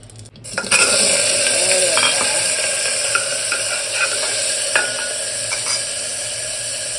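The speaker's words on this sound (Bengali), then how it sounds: "কুকার গরম হয়ে গেছে এখানে আমি একটু ঘি দিয়ে দিলাম" Ghee heats in a hot pressure cooker and gives a steady, loud sizzle and hiss close by, with light scraping and clinks of a utensil against the metal pot throughout.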